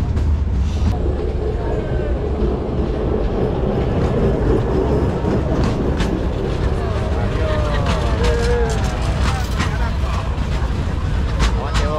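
A tourist train in Iguazu National Park, on the Argentine side, rolls past with a loud, constant rumble, rattling cars and brief high wheel squeals and whines scattered over the dense outdoor noise.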